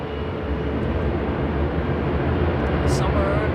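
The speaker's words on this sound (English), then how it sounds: "rotation speed for a heavy aircraft" Heavy jet aircraft taking off at London Heathrow, a continuous deep engine roar holding steady and loud throughout, with faint talk underneath.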